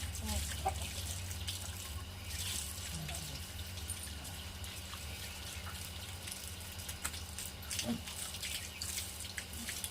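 Cold water runs and splashes over a dog during its bath, a continuous close trickle and patter from a tap with a low rumble beneath and a faint voice in the background.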